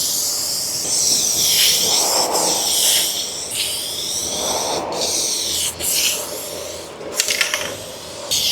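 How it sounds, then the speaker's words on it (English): Aerosol adhesion promoter hissing from a spray can onto a raw plastic bumper cover, in several steady bursts separated by short pauses, close and fairly loud. "This is just an aerosol adhesion promoter."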